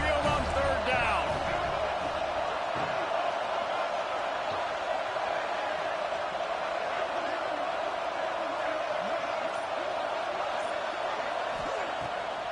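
Steady, dense roar of a large stadium crowd in the College Football 26 video game at Alabama's home field on third down, a continuous wash of cheering filling the whole stretch without letting up.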